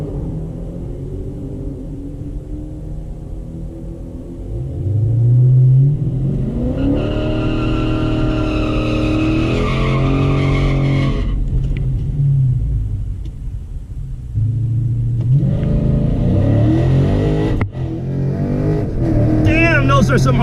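Dodge Challenger R/T Scat Pack accelerating hard down a drag strip at a Mopar event, a loud roaring engine rising in pitch with abrupt hard shifts between gears, heard under a voice talking.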